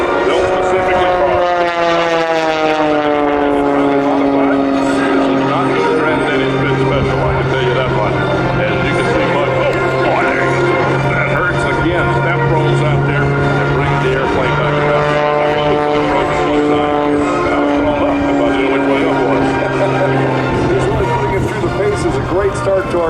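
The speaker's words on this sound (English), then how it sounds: "It is a biplane like our World War I airplanes are going to look." A biplane flies overhead at an airshow, its steady propeller drone humming loudly and continuously, pitch sliding slowly, with a person talking over the engine throughout.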